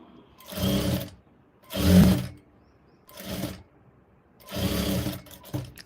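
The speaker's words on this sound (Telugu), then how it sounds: "ఇక్కడ స్టార్టింగ్ నుంచి పెట్టి స్టిచ్ అనేది వేసుకోవాలి" A sewing machine stitches a blouse in four separate bursts, each lasting about a second, with near silence between them.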